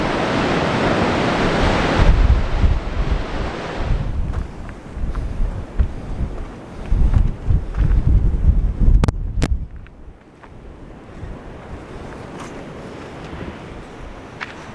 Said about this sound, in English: There's a big sea running.